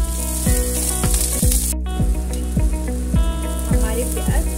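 Onions with finely chopped green chilies fry in a pan with a loud, dense sizzle, overlaid by a steady, regular rhythmic thumping that repeats about every half second.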